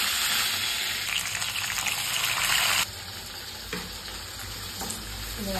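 About 100 grams of small shallots drop into hot oil in a pan for a curry leaf chicken fry, a loud bubbling sizzle that settles into a softer, steady frying crackle with occasional stir clatter.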